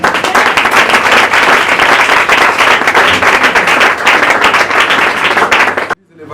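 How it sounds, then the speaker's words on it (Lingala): A church congregation bursts into loud, sustained applause, dense clapping that goes on for several seconds with voices mixed in before cutting off abruptly. "Alors acclame très fort pour lui."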